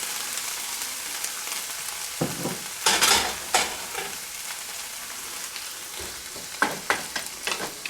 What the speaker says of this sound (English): we're just going to wait until the onions just start to look translucent, and then we'll know that our sauteing process is done